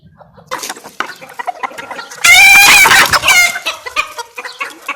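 Hens eating feed cluck and squawk close by in a busy run of short calls, with one loud, long crowing call from a rooster rising in the middle.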